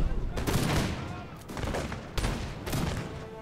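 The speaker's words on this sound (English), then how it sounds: "Luckily their backs were turned, so I got a few shots off. Did a cool bout face and fire though." Rifle volleys from foot guard infantry in a war strategy video game, repeated crackling bursts of massed musket fire in uneven waves, loud and dense, with booming tails.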